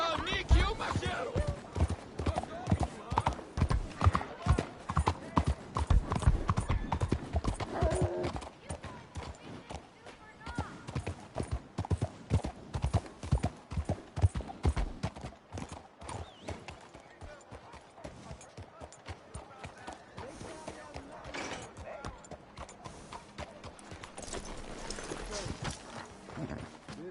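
Horse hooves clip-clop steadily in Red Dead Redemption 2 as the horse is ridden, a close, rhythmic run of hoofbeats that is loud early and then eases, with voices talking over it.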